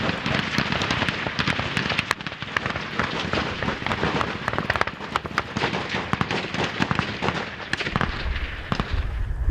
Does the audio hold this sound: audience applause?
no